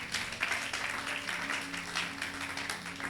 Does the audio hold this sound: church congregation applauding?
yes